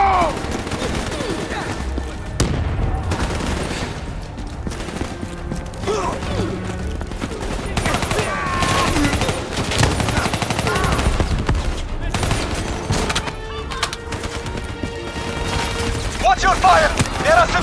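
Sustained gunfire and machine-gun bursts in a Cairo street battle in Call of Duty: Black Ops 3, dense, loud and continuous with mechanical clanks and shouting voices mixed in.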